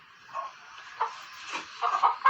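A single chicken clucks softly in a coop area holding a spoiled old egg, giving a few short, moderately quiet clucks spread across a couple of seconds with a faint hiss of room noise behind.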